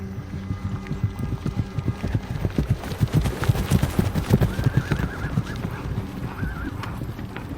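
Hooves of horses clip-clop along a road in a steady, overlapping rhythm, fairly close, with an occasional whinny and no talk.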